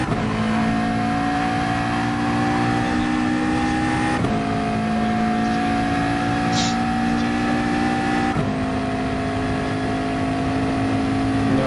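A McLaren 650S GT3 and other GT race cars in a video game at Interlagos, flat out on the straight; a loud, steady engine drone with high harmonic whine and brief shifts every few seconds, continuous throughout.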